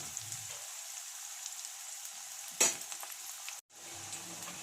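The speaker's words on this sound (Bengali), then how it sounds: "তেলের মধ্যে ভেজে নেব পেঁয়াজের যে কাঁচা গন্ধটা সেটা চলে যাক" Onions frying in oil give a quiet, steady sizzle, broken by a sharp clatter of stirring partway through and a brief silent gap before the sizzle resumes.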